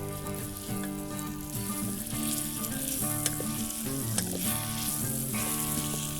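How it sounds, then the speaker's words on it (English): Pork browns in a hot pan with a steady, close, bright sizzle and crackle and occasional stirring, in a Red Dead Online cooking scene for pork and apple stew. "While the pork is browning"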